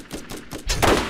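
Gunfire from the video game Borderlands: a quick run of four or five evenly spaced shots, then a denser, louder burst near the end, all fairly close.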